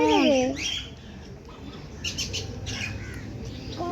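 A bird lets out a loud, harsh squawk at the start, followed by a few fainter chirps against rustling outdoor background noise.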